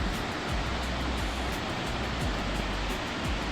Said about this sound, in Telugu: ఇక్కడ ఈ ఏరియా మొత్తం ఈ వాటర్ ఫాల్స్ శబ్దంతోనే మొత్తం నిండిపోయింది